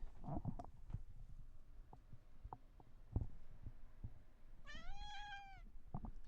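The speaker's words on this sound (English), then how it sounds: "I can translate her yowls, her meows." A cat meows in a rising, drawn-out yowl, loud and clear near the end, with soft thumps and rustling before it and no talking.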